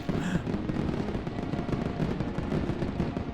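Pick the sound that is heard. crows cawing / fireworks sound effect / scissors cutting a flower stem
fireworks sound effect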